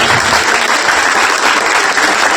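An audience at a speech competition breaks into loud, dense applause, many hands clapping continuously and close, a steady wall of sound with no pause.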